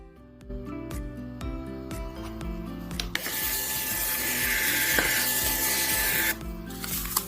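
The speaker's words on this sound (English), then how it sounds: "So right now I will be using the Dymo label printer." A Dymo label printer prints a shipping label, with rhythmic mechanical whirring and clicking pulses that give way to a louder steady buzzing hiss, then stop abruptly near the end.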